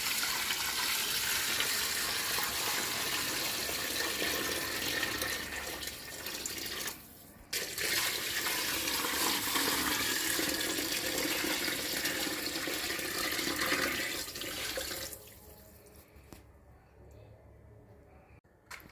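Water poured into a cooking pot of bong paya pours steadily and loudly as a broad rushing splash, pausing briefly midway and then tapering off near the end.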